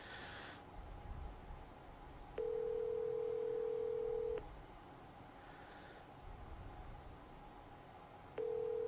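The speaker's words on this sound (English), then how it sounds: "Why are you fucking calling him on the phone?" Phone call ringback tone while waiting for someone to pick up: two long, steady, loud tones separated by a quiet gap, over faint background noise with no voices.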